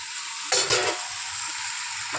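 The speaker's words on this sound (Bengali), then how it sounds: "এই যে কষছি এখনও মাংসটা" Meat braising in a pan as it is stirred, with a steady bright sizzle throughout and two louder bursts of spatter and scraping near the start, one after another, plus a smaller stir toward the end.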